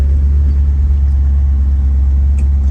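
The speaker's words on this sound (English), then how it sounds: "give a little quick demonstration to show you that it is actually a functional operating automobile" A 1969 Ford Mustang Boss 429 on old NOS tires rumbles along with a steady, deep, loud engine drone from close by, with no voices.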